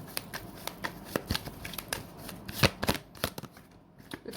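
Tarot cards being shuffled by hand, a steady run of soft riffling flicks and slaps at close range with one sharper snap near the middle, no voices over it.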